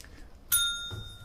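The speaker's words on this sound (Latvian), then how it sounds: "varat dzindzināt zvaniņu" A small handheld bell rings once at a quiz game, a single bright ding that rings on briefly and fades, close by, with a soft thump after it.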